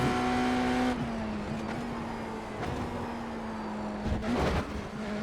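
A BMW M Hybrid V8 GTP prototype race car in a racing video game drives with a loud, sustained engine drone that shifts pitch through gear changes and dips briefly as it decelerates.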